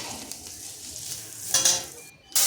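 Onion, ginger-garlic paste, green chillies and turmeric sizzle in a pan while being stirred, a soft steady frying hiss with a brighter burst midway and a sharp loud sizzle at the end as more goes in; no one talks.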